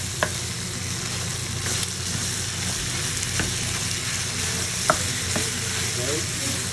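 Garlic and onion frying in a pan, a loud, steady close sizzle with occasional sharp clicks of a utensil against the pan.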